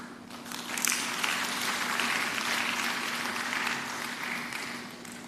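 An audience at the CBN Governor's annual lecture at Lagos Business School applauds: steady, fairly quiet clapping from a roomful of people, sustained for several seconds with no talking over it.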